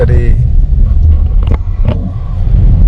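Low, steady road rumble inside a moving Toyota All New Veloz fitted with full-body sound-deadening, heard under someone talking, with brief knocks and bumps along the way.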